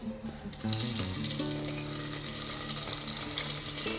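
Thinly sliced onions drop into hot oil and set off a loud, steady sizzle that starts abruptly after a brief quiet moment and holds close and even, with no voices.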